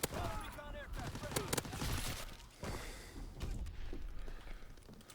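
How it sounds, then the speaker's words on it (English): Rapid explosions and gunfire from a Call of Duty match, with stun grenades and explosives bursting in dense overlapping volleys, loud and chaotic throughout, with no clear talk over the noise. "And now I'm getting hit with just stun grenades and fucking explosives."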